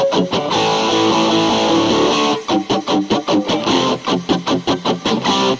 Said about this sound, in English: So already we have a little bit of doubler, delay, reverb.